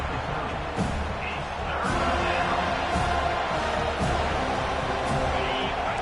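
College football stadium crowd at an NCAA game against Auburn, roaring steadily on a big third down, a dense sustained wall of cheering with thumps and rising noise throughout.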